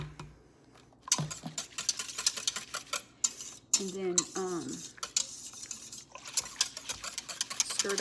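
A utensil stirs milk in an Instant Pot for homemade yogurt, rapid rhythmic scraping and clinking against the metal insert, close and steady, with a short bit of talking partway through.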